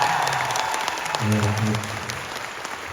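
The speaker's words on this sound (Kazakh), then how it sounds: "Бірақ шапалақ қолыңыз қандай еді?" Audience applause at a comedy show in Shymkent, a broad steady wash of clapping from a crowd filling the clip, with a voice speaking briefly over it partway through.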